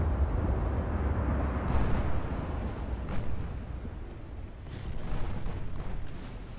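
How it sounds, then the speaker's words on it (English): Naval gunfire in Ultimate Admiral: Dreadnoughts as warships trade shots and launch torpedoes, a low distant rumble of heavy gun blasts with a few sharper booms over a constant windy roar. "And they're firing torpedoes over there."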